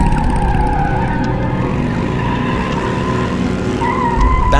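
In an audio-drama car chase, with a motorbike pursuing a car through city streets, a car engine roars continuously with tires skidding and squealing, loud and close, the revving rising toward the end.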